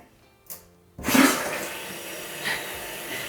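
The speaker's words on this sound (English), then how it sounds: "Now I'm going to slowly turn the water on to check for any leaks." Water rushes into the tank of a newly installed toilet after the supply valve is opened, starting abruptly after a brief knock and settling into a steady hiss of filling, close by with no talk.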